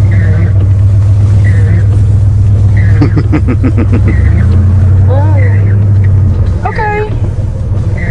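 A Cadillac hearse's engine rumbles low and steady while it drives, with people chatting inside the cabin over the drone.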